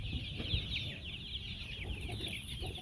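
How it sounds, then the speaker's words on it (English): Many chickens cluck and murmur steadily on a small chicken farm, a busy flock chorus running throughout with a constant high chirping of chicks layered above it. "Look at some of the chickens out there"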